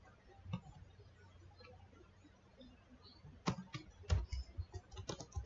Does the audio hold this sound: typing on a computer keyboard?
yes